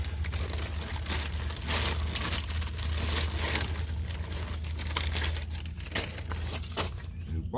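New control arm parts for a 2003 Chevy Tracker being pulled from a plastic bag, giving close, continuous crinkling and rustling with a low background hum.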